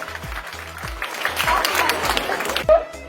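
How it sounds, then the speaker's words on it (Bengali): An audience at a school prize-giving claps in a dense burst of applause that swells and fades over a few seconds, layered over a steady thumping musical beat. "সবাই একটু জোরে হাততালি হোক"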